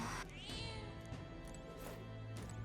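A cat meowing in the fantasy video game Metaphor: ReFantazio, a close, loud run of several drawn-out meows and cries over a steady low musical drone, with no talking.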